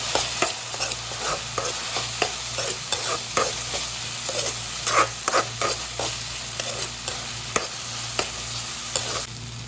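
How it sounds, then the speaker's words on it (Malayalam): Cauliflower Gobi Manchurian frying with soy sauce and being stirred in a pan, a close, continuous sizzle punctuated by repeated sharp scrapes and taps of the spatula, with no voices. "എന്നിട്ട് നന്നായിട്ടൊന്ന് ഇളക്കി കൊടുക്കാം"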